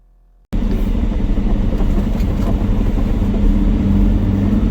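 Truck engine pulling back onto Highway 99 near Fresno, a steady loud rumble of engine and road noise that starts abruptly after a brief quiet moment and holds constant.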